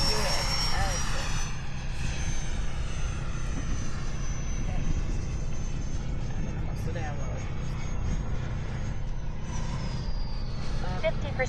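An upgraded FMS Pilatus PC21 model airplane flies with a steady propeller-engine drone at partial throttle, holding a continuous whine over broadband wind and field noise, with a person talking throughout.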